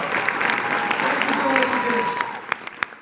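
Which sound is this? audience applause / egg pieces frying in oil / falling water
audience applause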